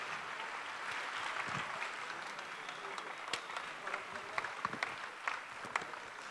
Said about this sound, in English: round of applause for our runners-up, please, Aurora, and to our winners,